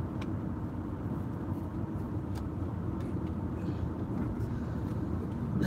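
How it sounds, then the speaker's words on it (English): Road traffic rolls past in a steady low rumble, heard from inside a vehicle, with a constant engine and road drone and a few faint clicks over it, and no talking. "here's the traffic"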